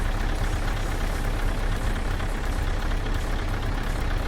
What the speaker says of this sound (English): that's the Scania 143 for you